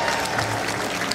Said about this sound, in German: Ja, und Applaus.